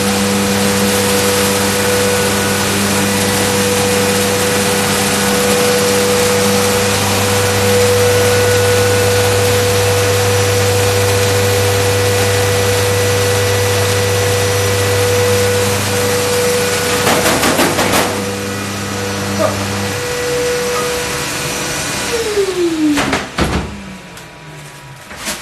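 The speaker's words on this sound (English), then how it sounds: "Vacuum cleaner on." A vacuum cleaner drones steadily and loudly nearby as it passes over leftover chocolate peels, then is switched off and its motor winds down with a falling whine near the end.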